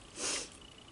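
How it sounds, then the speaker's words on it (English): A single short, breathy sniff close to the microphone, rising and fading within a fraction of a second. "Sorry, I'm sniffing."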